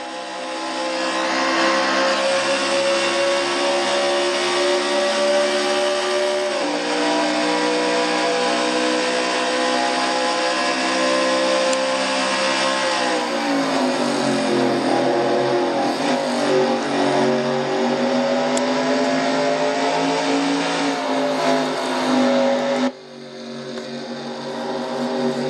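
Onboard view inside Mike Becker's number 15 Ford stock car racing at speed, a loud continuous engine drone shifting in pitch through gear changes and throttle lifts, running nearly the whole time.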